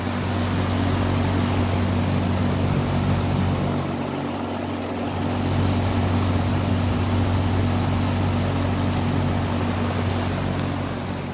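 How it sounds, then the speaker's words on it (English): A 1960s SuperLectric 20-inch electric fan, model 20675-S, runs with a steady, even whoosh of moving air and a low motor hum, continuous and close with no breaks. "Very quiet fan, very quiet"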